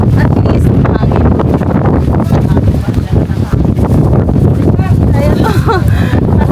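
Strong wind buffets the microphone in a constant loud rumble, with voices talking faintly beneath the gusts, on a land tour in Tagbilaran, Bohol.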